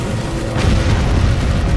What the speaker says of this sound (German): die Ritter explodieren in einem riesigen Badaboom